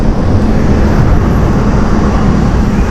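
Airliner departing Amsterdam Schiphol Airport, a steady loud roar of jet engines heard from nearby, continuous for the full three seconds with no voices.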